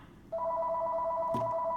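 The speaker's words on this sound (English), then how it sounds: "The phone is ringing." A telephone rings indoors with a steady electronic tone that starts abruptly and holds continuously, loud and close, with a brief knock partway through and no talking.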